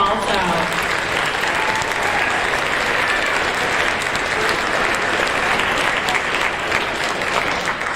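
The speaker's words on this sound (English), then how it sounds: "Let's give them a round of applause also." A crowd at a sixth grade school awards ceremony claps steadily in a large room, sustained applause that stays even and fairly loud, with some voices mixed in.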